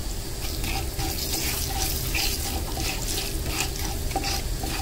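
Asafoetida and spices with roasted dry red chillies are stirred in a hot pan, a steady scraping and sizzling hiss running continuously at moderate level with no voices.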